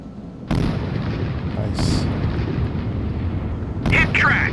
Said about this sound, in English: Raining 5-inch shells on this last target.